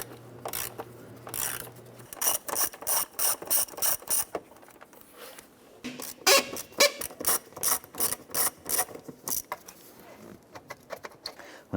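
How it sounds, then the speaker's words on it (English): A ratchet with an 8mm socket backing out the air box lid screws on a 2009-2015 Honda Pilot, giving rapid rhythmic clicking bursts, close and clear, with short pauses between strokes. "Now we're using an 8mm socket to remove the screws holding the air filter"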